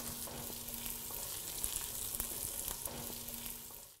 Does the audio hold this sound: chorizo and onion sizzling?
yes